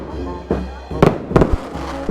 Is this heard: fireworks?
yes